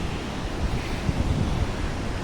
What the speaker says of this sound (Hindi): वही आपकी नदी बह रही है।